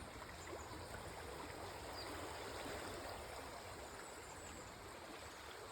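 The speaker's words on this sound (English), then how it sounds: "Surrounded by running water." A stream runs steadily nearby, a constant soft rush and babble of water with no voices over it.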